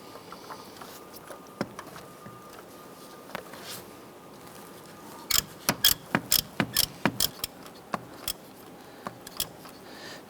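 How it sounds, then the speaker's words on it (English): A 27mm socket on a ratchet snugs down the oil pressure sender on a 1997-2006 Jeep Wrangler, producing a burst of sharp, quick metallic clicks after a few scattered taps, close and with no talking. "Now if you have a 27mm socket, I want to go ahead and snug that down."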